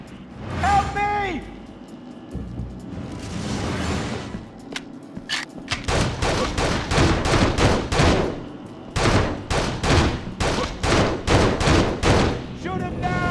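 Rapid bursts of close gunfire from Urban Chaos: Riot Response, a volley of sharp repeated shots rattling loudly in quick succession, with shouting voices heard over the opening moments.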